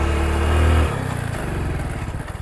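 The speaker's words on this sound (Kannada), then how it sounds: "ವೀಲಿಂಗ್ ಹೊಡಿತದ ನನ್ನ ಗಾಡಿ" A motorcycle engine revs hard during a wheelie on a road near Kundana Betta, a loud close roar that drops to a rough, pulsing throttle.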